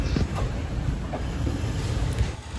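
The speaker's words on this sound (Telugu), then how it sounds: "మన ట్రైన్ అయితే ఇప్పుడే విల్లుపురం జంక్షన్లోకి ఎంటర్ అయిపోయింది అనమాట" A passenger express train rolls into Villupuram junction, with a steady low rumble of wagons and faint rail clatter running close by throughout.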